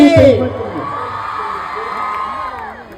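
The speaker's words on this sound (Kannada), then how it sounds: "ಬರ್ಲಿ ಚಪ್ಪಾಳೆ" A crowd cheers and whoops at an honoring ceremony on stage, a loud burst at the start that fades into softer, scattered crowd noise.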